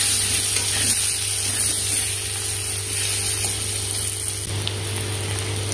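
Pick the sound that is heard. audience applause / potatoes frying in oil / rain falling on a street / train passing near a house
potatoes frying in oil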